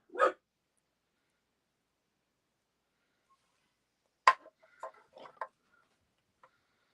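A puppy barks indoors during a craft session: one sharp yap, then a quick cluster of several yaps about four seconds later, close and fairly loud with silence between.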